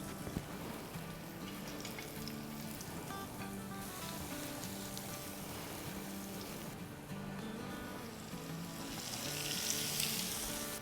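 Chicken fries sizzle and crackle steadily in moderately hot oil in a pan, a continuous dense frying hiss that swells slightly louder toward the end, with no talking.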